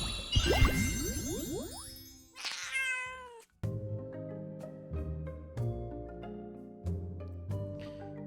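A cat meows in the video game Tales of Seikyu, with bright chimes and jingles at the start followed by a sequence of plucked, bell-like musical notes, no voices.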